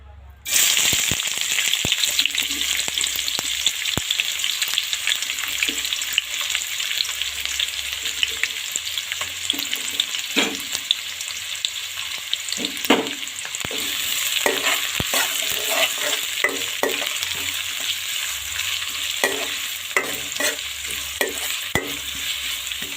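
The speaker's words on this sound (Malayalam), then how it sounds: "ഇഞ്ചിയും പച്ചമുളകും ഒന്ന് ഒരു കുറച്ച് എണ്ണ ഒഴിച്ചിട്ട് ഒന്ന് വഴറ്റിയെടുക്കുക" Ginger and green chilli sauté in hot oil in a fish curry, giving a loud, steady sizzle for the whole stretch, with repeated clinks and scrapes of stirring.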